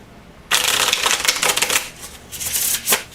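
A deck of playing cards gets a quick shuffle during a tabletop card-based hockey game, giving a dense, close riffling rattle that starts abruptly and runs for about two and a half seconds, fading briefly before a final burst.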